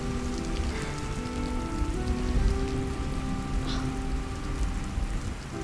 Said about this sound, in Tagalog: I think we should wait here till tumila yung ulan.